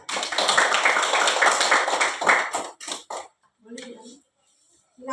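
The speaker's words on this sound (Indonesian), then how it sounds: "Baik, tepuk tangan untuk kita semua." A classroom of pupils claps together in a dense burst of applause that lasts a few seconds and then dies into a few scattered claps. A short bit of talk follows near the end.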